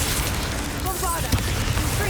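A Bombarda blast spell goes off in Hogwarts Legacy during a fight with spiders, a loud explosive boom that rings through the clip alongside game music and effects, with a small sharp pop near the middle.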